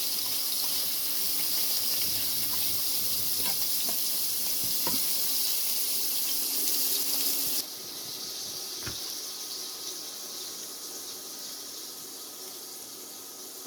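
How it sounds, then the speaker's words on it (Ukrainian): Liver frying in a dry pan, a steady broadband sizzle that fills the whole stretch, dropping slightly in loudness partway through, with a few faint clinks and no voices. "Підсмажуємо печінку."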